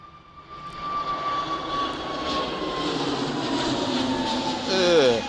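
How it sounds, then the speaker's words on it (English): An EasyJet Airbus A320neo begins its takeoff roll at Manchester Airport, its jet engines a steady, rising roar with a faint whine, heard from a distance and growing slightly louder toward the end. "Got this EasyJet A320neo just on the roll"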